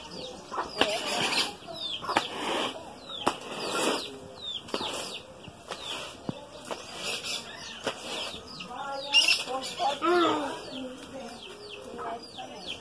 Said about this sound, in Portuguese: Olha a galinha. Olha, mamãe, a galinha se levanta.